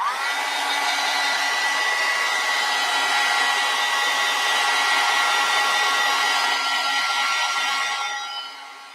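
A hair dryer blows steadily and loudly on freshly applied acrylic paint, a constant whirring hum with a high whine that holds for about eight seconds before easing off as it is switched down.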